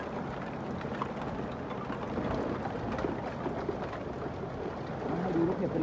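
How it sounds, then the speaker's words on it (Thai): Hail and rain fall together during a Canadian hailstorm, a steady, moderate patter and rush of drops and pellets, somewhat muffled, with no clear voices. "ให้ดูมีทั้งฝนมีทั้งลูกเห็บ"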